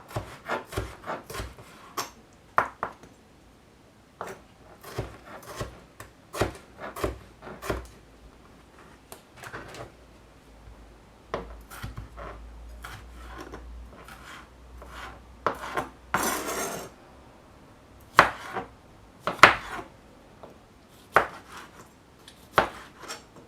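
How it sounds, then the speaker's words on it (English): Knife dicing three fresh tomatoes on a cutting board for pico de gallo, a steady run of crisp, close chopping taps in uneven bursts, some quick and clustered, with no talking. "Just going to dice these up."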